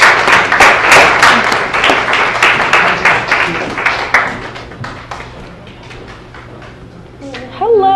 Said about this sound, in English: Round of applause for Sally Jo Guzik.